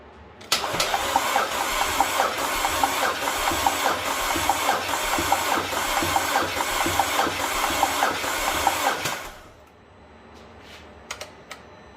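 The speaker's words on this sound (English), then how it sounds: "Keep an eye on the gauge while I go crank the engine." An Audi 2.0T car engine cranks slowly and steadily on a dying battery for several seconds in a fast rhythmic whirr without catching, then cuts off abruptly, leaving faint clicks.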